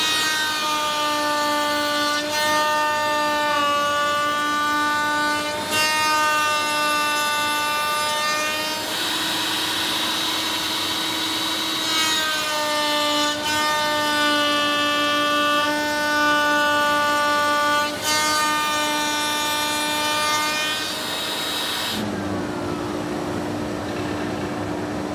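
A router bit cuts the centermost mortise slot in wood on a MatchFit mortiser jig, a loud steady whine with strong tonal harmonics that holds unbroken for over twenty seconds, shifting slightly in pitch as the cut proceeds, then drops near the end.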